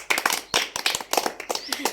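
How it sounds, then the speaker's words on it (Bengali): A group claps hands together in a party game, with bursts of clapping that ring out close and sharp under lively overlapping voices and chatter throughout. "একটা হাততালি দাও সবাই"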